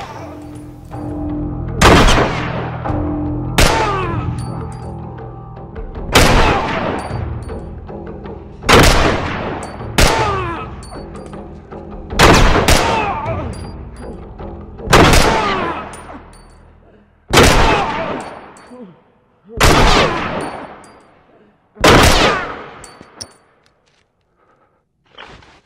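Loud gunshots fire in The Last of Us, about ten sharp reports spaced a few seconds apart across the stretch, each ringing briefly, with faint game ambience between.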